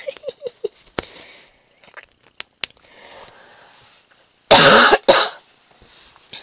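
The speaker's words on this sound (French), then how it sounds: "Je vais pas dire que ça me fait du bien de tousser non plus." A few short throat-clearing sounds and small sniffs, then a loud, harsh double cough close by, followed by quiet.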